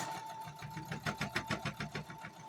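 A sewing machine stitches red and blue quilt strips with a quarter-inch seam, running in a steady, fast rhythmic whir of needle strokes throughout, fairly quiet and close with no talking.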